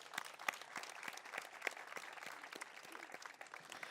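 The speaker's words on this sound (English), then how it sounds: "Let's give them a round of applause" A crowd applauds steadily at an outdoor Memorial Day ceremony, a dense, even wash of many hands clapping, faint and somewhat distant, with no voices over it.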